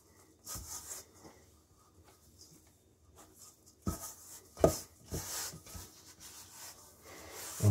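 A plastic dough scraper rasps and scrapes around the inside of a mixing bowl, collecting sticky pumpernickel bagel dough from the bottom. The strokes are short and irregular, a few grow louder near the end, and there is no talk.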